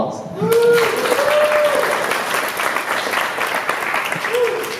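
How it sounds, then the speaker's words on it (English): An audience at a tech talk event gives a speaker a round of applause, loud continuous clapping filling the room throughout, with a voice speaking over it. "a round of applause."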